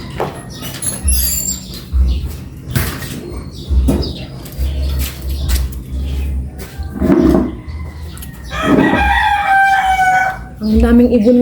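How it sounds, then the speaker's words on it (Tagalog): A rooster crows loudly near the end, with other birds chirping and clucking around a low background hum. "Mga huni, mga tilaw ng manok na nagigising."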